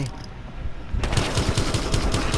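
Rapid automatic gunfire in the video game Battlefield Hardline, a dense run of loud repeated shots starting about a second in after a low rumbling lead-in.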